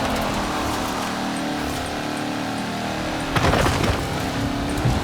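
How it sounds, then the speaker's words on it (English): An all-terrain supercar in Forza Horizon 4 drones with a sustained engine hum, steady and close, swelling briefly in a louder rev with gritty surface noise midway. "This is an all-terrain supercar."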